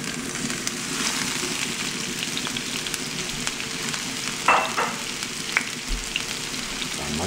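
Fresh vegetables frying with garlic in a hot pan, a steady broadband sizzle with a few brief clatters and stirring knocks, no talking.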